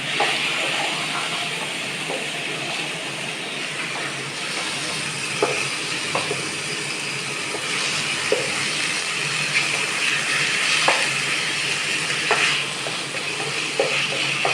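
Chicken frying in a pan, a steady broadband sizzle lasting throughout with occasional soft scrapes and stirring clicks, continuous and close.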